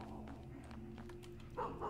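A dog barks in the horror video game Graveyard Shift, a few short yelping barks over a steady low ambient hum, with a louder pair of barks near the end.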